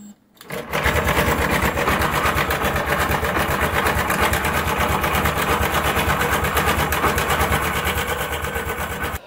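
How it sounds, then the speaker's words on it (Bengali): Honda SP125 BS6 motorcycle engine with a worn timing chain, running steadily at idle with a fast, continuous mechanical rattle and ticking, loud and close after a brief quiet start. "টাইমিং চেঞ্জ যদি খারাপ হয়ে যায় তাহলে কী ধরনের সাউন্ড আসে"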